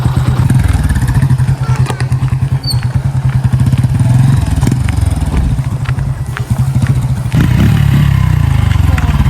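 A motorcycle engine runs loud and close throughout, with a steady low throb, some revving and clattering, and a brief voice heard under it.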